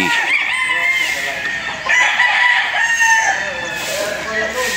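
Gamefowl bull stags and roosters at a game farm crow loudly and close by in overlapping calls, with clucking mixed in.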